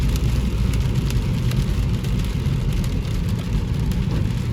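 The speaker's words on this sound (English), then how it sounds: "It's raining hard." Heavy rain pours steadily in Bakersfield, California, a dense and loud patter of drops drumming on surfaces throughout, with no voices over it.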